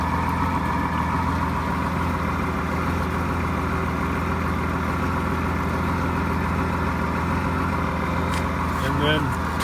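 A car engine treated with Sea Foam in its carburetors idles in a steady, low, continuous drone at moderate distance, with a brief faint clink or voice-like sound near the end.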